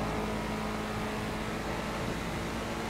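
In GTA Online, a car engine hums steadily as the ride pulls away, a continuous moderate drone with no one talking.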